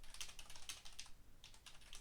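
Quiet, rapid typing on a computer keyboard, with close, fast key clicks in short bursts and a brief pause in the middle.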